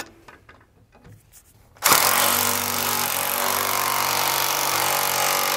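A power tool with a 14mm socket drives a self-tapping screw into a bracket while an Air Lift LoadLifter 5000 helper spring goes onto a 2017 Chevrolet. Light handling noises come first, then a loud, steady whir runs to the end.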